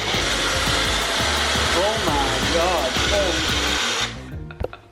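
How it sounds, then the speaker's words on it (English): A Magic Bullet blender strains to blend dates with water, a loud steady motor whine that runs for about four seconds and then cuts off, with a brief exclamation from a person near the end. "Little trusty magic bullet here."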